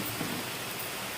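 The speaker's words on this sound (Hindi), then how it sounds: "धूप निकल रही है और बारिश हो रही है" Rain falling steadily on a flooded school ground during sunshine, a soft continuous hiss of drops on water, faint and even with no talk.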